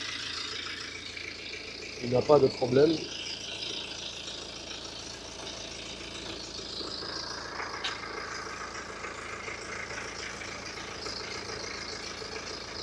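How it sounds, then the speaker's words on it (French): A BMW 320d diesel engine with 300,000 km idles with a steady low rumble throughout and a faint rattle, and a person speaks briefly near the start over it. "on va le démarrer, le moteur. Donc comme vous voyez, le moteur tourne correctement."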